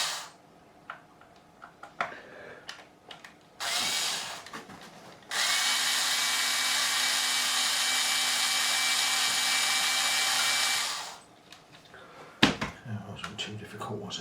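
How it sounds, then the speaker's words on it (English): A power driver whirs as screws are backed out of the roller saddles on the bridge of a Jackson-style partscaster guitar. A short burst comes first, then one steady run of several seconds, with small clicks and handling noises around it. "I've got to remove a couple of these saddles"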